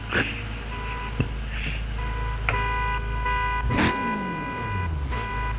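A car horn honks in a racing video game, with steady electronic tones and a few sharp hits over a constant engine drone; no voices.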